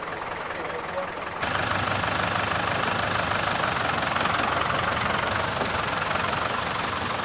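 Old tractor engines run at a steady idle with a dense, knocking mechanical drone that jumps louder after the first second and then holds constant, close and loud, under a voice speaking.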